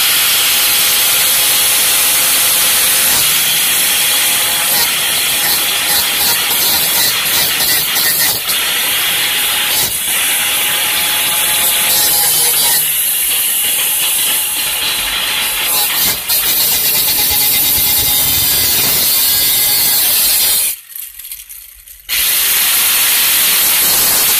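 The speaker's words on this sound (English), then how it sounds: "we're just going to cut right in front of that rivet" A cutting tool slices through the metal floor panel of a 1995 Chevrolet Astro van for fuel pump access, throwing sparks. A loud, harsh, continuous grinding hiss runs almost the whole time, with a short break near the end.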